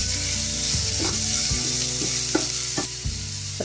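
Thin-sliced onions, green chillies and ginger fry with salt in hot oil for a jackfruit biryani, a steady loud sizzle with intermittent stirring scrapes and clinks of a spoon against the pan, no voices.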